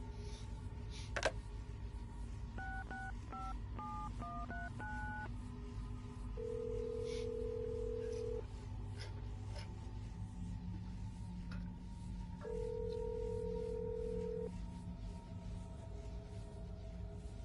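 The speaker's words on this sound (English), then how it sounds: "I'm getting a phone call." A phone rings faintly in the Assassin's Creed Brotherhood Remastered video game, with a quick run of dialing tones followed by two long, even ring tones spaced apart over a low steady hum, without speech.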